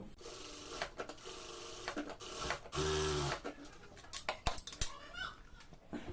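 A sewing machine stitching a salwar seam runs in one short, steady burst of under a second, set among quiet handling clatter and small taps of fabric work.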